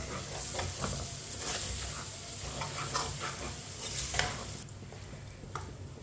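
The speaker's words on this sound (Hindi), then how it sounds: "मिक्स करके इसे 2 मिनट के लिए चम्मच चलाते हुए दोबारा पका लेंगे।" Spoon stirring suji halwa with dry fruits in a pan over low heat, a soft continuous sizzle with scraping strokes and light clinks, fairly quiet and steady.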